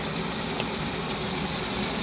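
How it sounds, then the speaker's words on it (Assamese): Water pours steadily into a pan of fish curry with fried potatoes and elephant apple, a continuous hissing gush that runs unbroken for about two seconds. "এতিয়া পানী দিলোঁ তৰকাৰীত"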